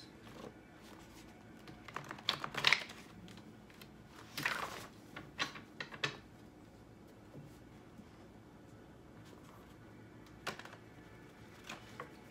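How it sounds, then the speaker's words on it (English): Quick papery riffles and soft flutters of a deck of cards being shuffled, in a few short bursts separated by quiet pauses. "I'm going to shuffle the chakra energy cards."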